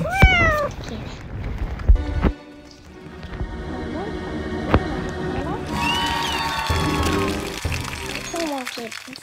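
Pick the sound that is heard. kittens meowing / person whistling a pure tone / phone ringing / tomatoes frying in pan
kittens meowing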